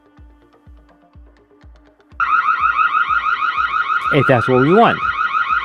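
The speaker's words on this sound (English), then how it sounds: "And the nice thing too, it does have an alarm." A Reolink solar-powered 4G wireless security camera sounds its alarm: after a few soft ticking beats, a loud, piercing electronic siren starts abruptly and holds, with a warbling sweep midway, and a voice speaks briefly over it.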